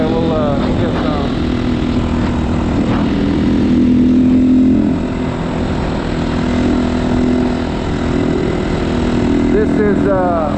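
A GPX Moto FSE300R dual sport motorcycle cruises along a road, its engine a steady, loud drone that runs without a break and sits close, with a voice talking over part of the ride.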